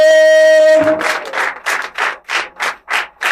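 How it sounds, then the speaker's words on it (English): Audience at a leadership training program clapping, a steady unison rhythm of about ten loud claps following a sustained tone, with no talk over it. "Please keep clapping. Keep clapping. Keep clapping."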